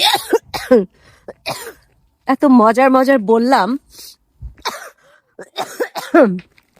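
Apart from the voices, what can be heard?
coughing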